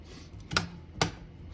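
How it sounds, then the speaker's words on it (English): Two crisp, close keystrikes sound about half a second apart on a 1948 Royal Quiet De Luxe portable manual typewriter, each a sharp mechanical clack heard alone over faint room hiss. "the more tension there is when you hit the keys"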